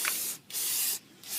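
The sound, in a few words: spraying anti-rust coating on a new brake pad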